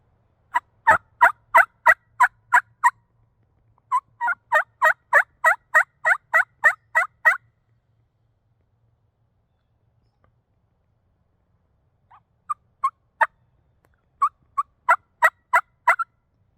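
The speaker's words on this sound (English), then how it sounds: "Been waiting for him to gobble again." A wild turkey gobbles in the open, sharp rattling bursts of rapid notes in several clusters separated by quiet gaps, clear and fairly close with no talking.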